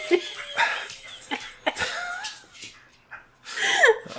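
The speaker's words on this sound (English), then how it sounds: "Dog interrupted." A dog barks close by in a few sharp bursts, with whiny, yipping tones in between.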